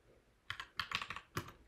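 Keystrokes on a computer keyboard while entering a search term into a tool's search bar: a quiet pause, then a quick burst of about eight crisp taps and one final louder press, close and alone.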